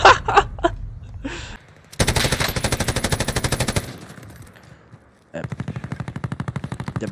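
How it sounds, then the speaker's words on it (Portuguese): Enemy gunfire in an Xbox One S shooter game erupts in rapid, loud automatic bursts, two long sustained volleys separated by a short lull, with a few sharp single shots at the start and no clear speech over it. "Ainda bem que ele errou uns tiros ali,"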